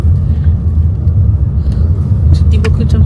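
A car climbs a rough, steep hill road on the way to a campsite, its engine rumbling low and steady throughout, loud and close, with no clear voices over it.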